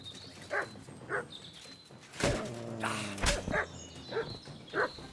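Mutt the dog in Kingdom Come: Deliverance 2 gives several short barks spaced across the moment, mixed with a couple of heavy thuds and quieter game ambience.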